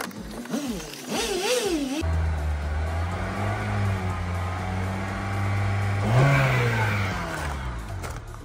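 A used Lada Steppe Spada car engine revs up toward 3000 rpm, a steady mid-pitched hum rising and swelling near the end, preceded by a brief zipping rasp, with no talk over the engine.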